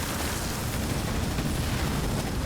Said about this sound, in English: More ice explosions.